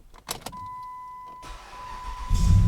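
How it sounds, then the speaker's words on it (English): A car engine with a weak battery and failing starter cranks slowly and struggles, a brief sputter and tonal whine giving way to a louder, rougher rumble as it nearly catches. "It'll crank slower and slower, and sometimes when you try to start it, it'll get stuck in between that compression"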